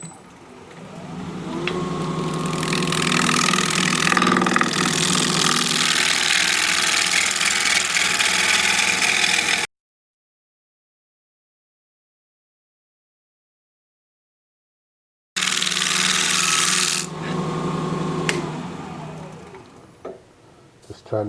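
Wood lathe turning a cork oak bowl, with a chisel cutting through cork bark into the wood beneath. A loud continuous scraping, rushing cut runs over a steady motor hum, stops for a silent gap midway, then resumes and tapers off.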